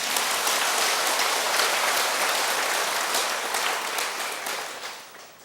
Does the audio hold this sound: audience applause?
yes